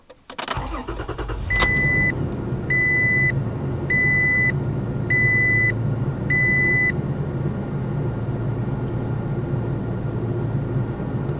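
Toyota Tacoma SR 4x4 pickup, heard from inside the cab, cranks and its engine catches into a steady low idle, while a chime beeps five times in regular pairs over the hum.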